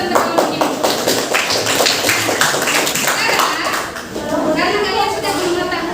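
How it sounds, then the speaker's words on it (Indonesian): A classroom group gets a round of applause: dense, steady clapping from many hands fills the room for several seconds, with children's voices mixed in underneath. "kita beri aplaus untuk kelompok ini"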